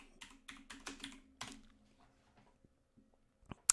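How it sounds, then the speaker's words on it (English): Loud, quick bursts of typing on a computer keyboard, clustered keystrokes at first, then thinning to scattered isolated taps, close and alone. "I know I'm a loud typer."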